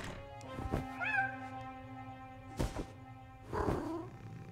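A cartoon cat in the point-and-click adventure game Anna's Quest gives a few short, fairly quiet meows, broken up by soft thumps and game background sound.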